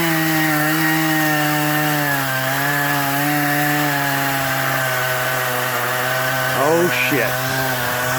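Chainsaw cutting a large tree limb, its engine droning steadily with a strong harmonic whine that shifts pitch as it works, revving briefly near the end while a man exclaims.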